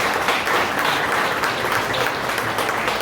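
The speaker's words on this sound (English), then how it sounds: "Another round of applause" An audience at a Democratic club happy hour applauds, a dense, steady wash of clapping that holds evenly for the full three seconds, fairly loud and close.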